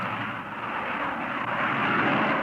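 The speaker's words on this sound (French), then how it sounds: "Le 15 juillet 1954 glisse dans le ciel, dans sa belle robe rouge et jaune, le prototype du Boeing 707." A Boeing 707 prototype jet airliner flies overhead in 1954, a loud, steady roaring engine drone that swells slightly toward the end, with no voices.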